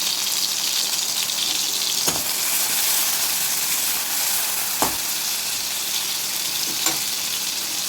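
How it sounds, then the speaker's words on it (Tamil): Tomatoes sizzle and hiss steadily in a hot pan, with a few brief scraping stirs breaking through the constant frying noise. "கொஞ்சம் தக்காளி நல்லா வதக்கிக்குவோம்"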